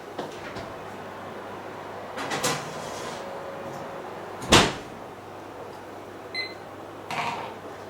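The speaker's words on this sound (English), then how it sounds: "So I'll put them in the oven now and I'll come back in 20 minutes." An oven door handled while apple turnovers go in to bake: a few soft clunks and knocks spread apart, one sharper bang near the middle, set against quiet kitchen room tone.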